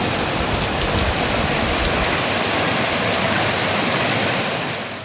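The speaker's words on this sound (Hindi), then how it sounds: "बाहर बारिश देख लो, अच्छी वाली बारिश हो रही है" Heavy rain pours down outside a home during hot weather, a loud, dense, continuous hiss of drops striking surfaces that fills the whole stretch with no voices.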